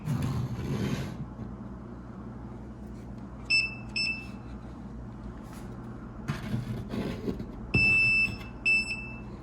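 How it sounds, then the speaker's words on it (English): A non-contact voltage detector held near an electrical outlet chirps in short, high double beeps, first in one pair and then again later, faint against low background rumble and handling noise. "I have it set on the non-contact voltage detector setting, and watch."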